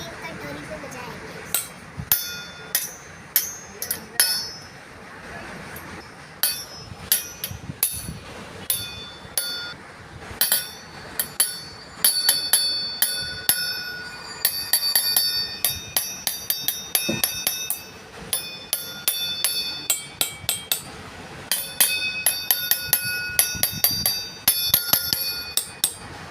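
A small spoon taps a row of water-filled bowls one by one, giving bright ringing clinks at different pitches in quick irregular runs and pauses, fairly close and clear over faint room noise.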